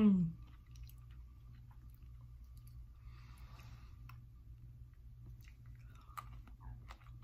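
Chewing a crunchy, chewy British cool mint sweet close to the microphone, soft wet crunches and squishy bites repeating irregularly over several seconds against a low background hum.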